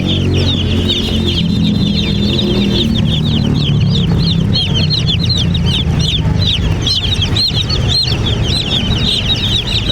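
A flock of newly arrived broiler chicks peeps continuously and loudly, dense overlapping high chirps filling the whole stretch close by, with no speech.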